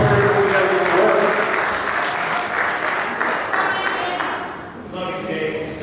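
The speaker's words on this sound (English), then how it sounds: "Give a round of applause on the way out." An audience applauds as James leaves a weigh-in, a loud burst of clapping that gradually thins and fades, with voices mixed in among the crowd.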